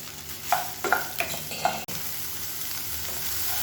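Soya chunks fry in hot oil in a pan, giving a steady close sizzle with a few stirring scrapes and clatters early on, then settling into an even hiss.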